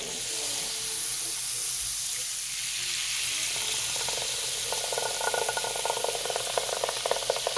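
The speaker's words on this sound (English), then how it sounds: "Boy, that sizzles nicely," About three tablespoons of butter sizzle in a pan for garlic shrimp scampi, a bright crackling hiss that grows denser and louder toward the end, close and alone.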